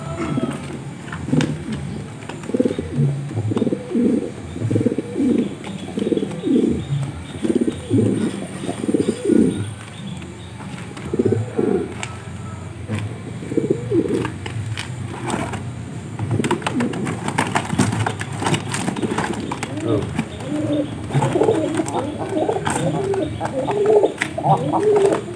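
Pigeons cooing nearby in repeated soft throaty bursts, several in a row then pausing and resuming, alongside chirps and some background noise.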